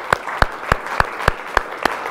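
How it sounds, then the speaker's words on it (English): An audience applauds at a business networking presentation, with crisp, rhythmic claps in a steady pulse at close range. "give yourselves a round of applause"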